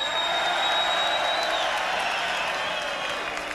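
A large crowd in a 5,000-seat arena cheering for Stuttering John at a fight event, a steady wash of applause and shouting with a faint whistle, dense and unbroken throughout.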